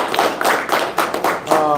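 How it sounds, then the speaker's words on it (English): Short, loose clapping from a small crowd at a press conference for after-school program staff, a handful of uneven claps that overlap with voices. "Just please clap them up."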